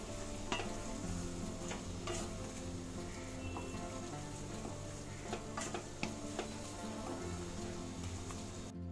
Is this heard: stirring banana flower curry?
yes